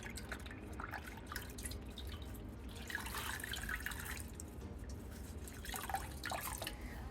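Vinegar trickles and drips while a surface is being cleaned, a faint, steady run of liquid with brief brighter splashes and patters throughout.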